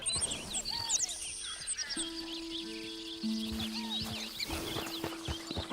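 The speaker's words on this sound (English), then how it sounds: "It sounds like there's 20 birds in these trees" Many birds chirp, trill and whistle at once in the trees of Red Dead Redemption 2, a dense chorus of overlapping calls with a few clucking and clopping sounds.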